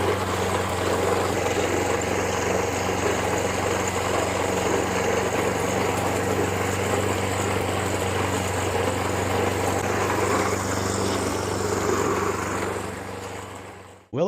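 A lawn mower engine drones steadily and loudly while cutting grass in a yard, its running note holding nearly unbroken for the whole stretch before cutting off abruptly at the end.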